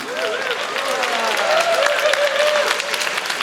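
An audience applauds hula dancers at a Hawaiian slack key guitar performance, with steady, dense clapping and crowd voices throughout.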